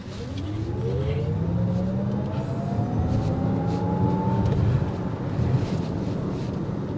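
Electric 2023 Lexus RZ450e pulling hard from a standstill on a test drive, a rising motor whine sweeping upward over road and wind rumble, heard from inside the cabin with no talking.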